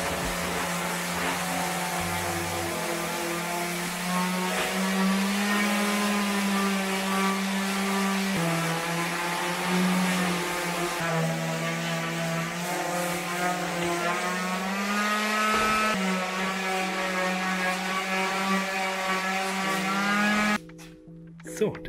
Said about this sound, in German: Das werde ich euch jetzt einfach mal hier demonstrieren und alle vier Pfeile schleifen.